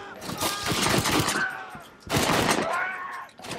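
Pistol shots ring out in the Red Dead Redemption video game in two quick bursts of rapid fire, loud and close, each followed by a decaying ring.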